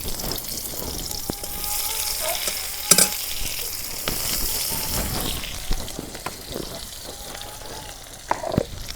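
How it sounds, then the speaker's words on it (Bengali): Chopped onion drops into hot oil in a home kitchen, giving a steady close sizzle with scraping stirs and a few clinks, faint speech in the background. "তেল গরম হচ্ছে, পেঁয়াজ কুচি দিয়ে দিই"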